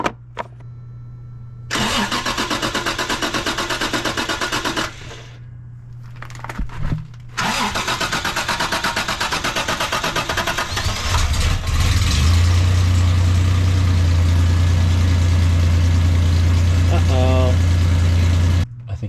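A 2nd generation Toyota 4Runner engine cranks in several long starter bursts with pauses between them, then catches and settles into a loud, steady idle.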